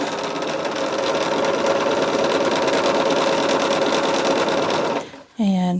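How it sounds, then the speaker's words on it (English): Sewing machine stitching long white and red quilt strips together, a steady loud continuous whir with a constant hum that runs for about five seconds before stopping abruptly, followed by a brief different sound. "I'm just going to sew one on each one of these and then press it out"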